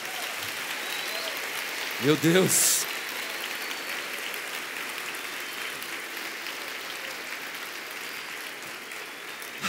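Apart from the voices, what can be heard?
audience applauding in church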